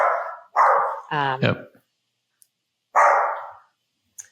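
A pet dog barks indoors during a conversation: three loud, close barks come in quick succession, then one more after a pause, with a person talking briefly between them.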